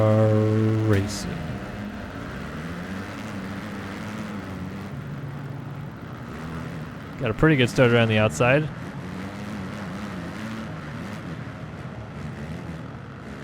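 Motocross bike engines drone steadily in the Supercross 4 racing game, with a louder burst of revving around the middle, while someone commentates over the top.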